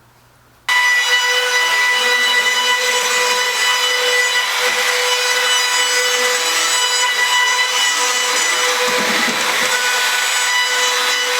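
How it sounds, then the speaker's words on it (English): A power router rounds over the bottom edge of wooden canoe outwales, starting abruptly and holding a steady loud whine with a cutting rasp, with no talk. "So I'm going to round over the bottom."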